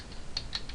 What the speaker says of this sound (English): I'm just pressing all the buttons on my keyboard right now